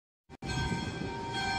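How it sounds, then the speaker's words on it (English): A church bell in Manila rings out after a brief knock, its steady metallic tone sustained and fairly loud against the street. "I'm right next to a church. That's what those bells are ringing."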